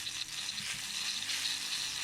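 A ricotta pancake fries in a pan, giving a steady, close hiss of sizzling that runs unbroken without pauses.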